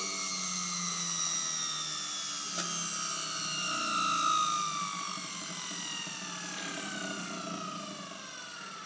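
Electric motor fitted with a single-channel optical encoder whines steadily up close, its layered tonal hum gliding gradually lower in pitch as the motor is slowed.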